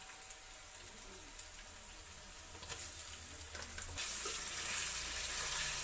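Five hundred grams of chicken liver hit a hot pan for a kaleji curry, with a steady hiss and sizzle that grows louder and brighter partway through, plus light stirring noises and no talking.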